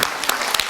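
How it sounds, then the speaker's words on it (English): Clapping from an audience at a Tamil film event during an emotional stage speech, brief scattered claps standing out over a hissy hall ambience, fairly loud and short. "I think you all need to give a bigger round of applause."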